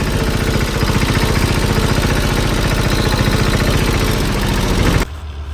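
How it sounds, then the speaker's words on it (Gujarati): A tractor engine runs steadily and loudly up close while hauling a trailer of harvested wheat home on a farm. The dense, throbbing drone is continuous until it cuts off abruptly near the end. "ટ્રેક્ટર લઈને આપણે તો નીકળી ગયા ઘરે"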